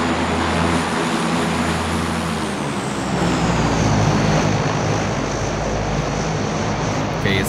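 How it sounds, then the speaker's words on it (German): A propeller airplane drones loudly overhead in a PUBG match, a steady, rumbling engine roar with low harmonic hum that persists throughout, dominating everything else without any talk. "Hallo Flugzeug."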